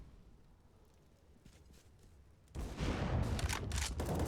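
Grenades going off in a CS:GO match on the Overpass map, a low rumbling blast that suddenly swells to a loud, dense roar of explosions after a quieter stretch of faint game noise.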